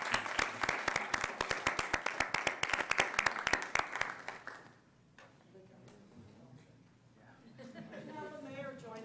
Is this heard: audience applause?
yes